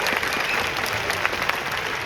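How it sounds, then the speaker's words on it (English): A hackathon opening-ceremony audience applauds a marching band, a loud, dense, continuous round of clapping with a few sharper claps standing out. "One more round of applause."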